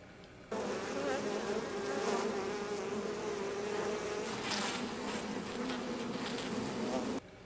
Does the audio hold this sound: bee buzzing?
yes